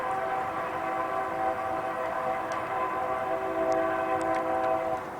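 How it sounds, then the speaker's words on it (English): A passing train rumbles steadily at a distance in an outdoor setting, its tonal droning hum holding level throughout with faint higher squeals or whistle-like tones appearing briefly near the end. "And there's a train."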